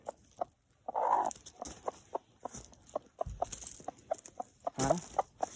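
Several hens cluck in short, scattered bursts at close range, with a few louder squawks mixed in among quieter background clucks.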